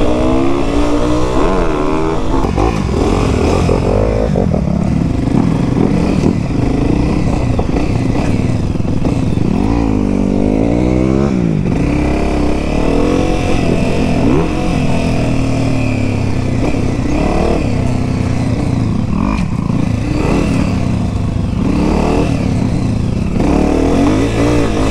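A 2020 Honda CRF250R dirt bike engine runs loud and close throughout, droning and revving up and down steadily while riding, with no talking.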